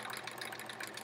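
A sewing machine runs at steady speed during free-motion quilting, a rapid, even, motor-like whirr with fast stitching pulses for about a second.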